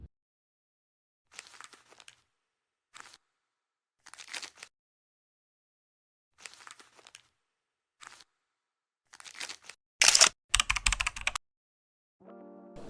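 Sparse clicks and taps of a computer mouse and keyboard in a quiet room, ending in a louder cluster of sharp clicks and a short tone.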